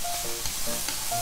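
Nagasaki sara noodles fry in a pan while being stirred constantly, a close sizzle broken by quick scraping stirs in an uneven rhythm.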